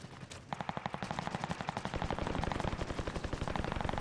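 Rapid automatic gunfire from a weapon in a video game, a long burst of evenly spaced loud shots after a brief quieter lead-in, continuous and close.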